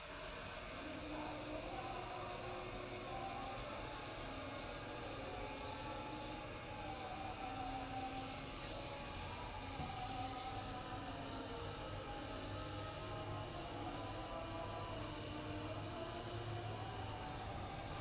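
Strong, steady air blasting from a blower during repair work on a Realme 5i phone, a continuous loud rushing hiss with a faint whine that holds unbroken for the whole stretch, without talk.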